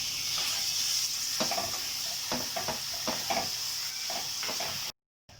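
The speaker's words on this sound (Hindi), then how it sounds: "सबसे पहले मैं इसके अंदर डालूंगी कीमा" Keema, minced meat, sizzles steadily in a pan, a close frying hiss broken by repeated scrapes and clicks as it is stirred, then a sudden brief silence just before the end.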